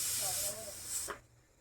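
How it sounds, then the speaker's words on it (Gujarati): A pressure cooker whistles its first time while vegetable biryani cooks outdoors at night, a loud, close hiss of escaping steam that swells twice and then cuts off into quiet. "કુકરની પહેલી સિટી વાગી રહી છે"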